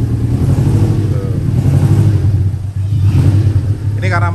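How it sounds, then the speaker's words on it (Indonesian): A 2004 Zebra Espass pickup fitted with a modified exhaust idles and revs outdoors, a steady loud low drone with a brief dip midway, while someone talks over it nearby. "knalpotnya dibikin seperti itu kayak Jetstar ya,"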